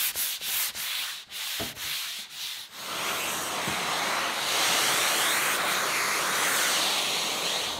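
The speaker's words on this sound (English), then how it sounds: "I've just started to sand the frame, and it's powdering up nice." Sandpaper worked by hand over a painted frame, first as several short scraping strokes with brief gaps, then as a continuous loud rubbing hiss, close up and without talk.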